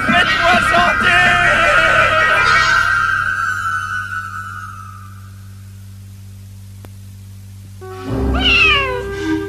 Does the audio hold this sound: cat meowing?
yes